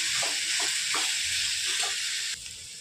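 A hot pan sizzles loudly as a little water goes in for a curry gravy with bitter gourd and masala, steady hiss with a few stirring scrapes, then easing slightly near the end.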